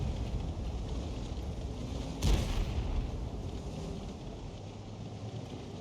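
In the video game World of Tanks, an Object 261 artillery piece fires once, a single muffled boom over a continuous low engine rumble, moderately loud with a brief rolling tail.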